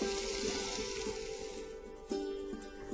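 Stir-fried vegetables sizzle steadily in a hot pan near the end of cooking, a close, continuous crackle with a brief louder burst partway through.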